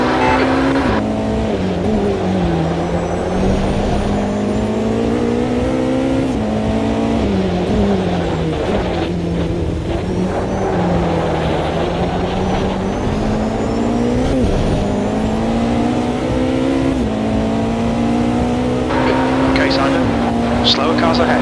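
Race cars in the video game Automobilista drive a lap: one engine revs up and down through shifts in a continuous loud whine, with other cars close by and a voice talking over it at times.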